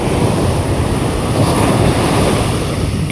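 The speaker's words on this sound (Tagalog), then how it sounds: "Kasi laki ng alon." Big sea waves wash against a beach, a constant broad roar with wind buffeting the microphone and no voices.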